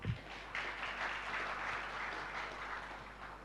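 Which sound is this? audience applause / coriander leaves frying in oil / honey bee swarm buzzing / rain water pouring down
audience applause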